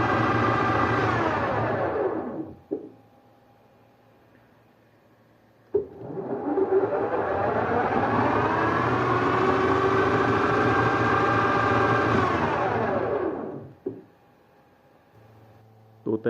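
Servo motor driving a machine spindle at about 3000 RPM, with the spindle itself near 1600 RPM. It winds up and holds a steady whine, stops, then spins up again for a longer run before winding down, with clicks between runs.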